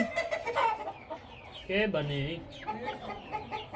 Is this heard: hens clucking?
yes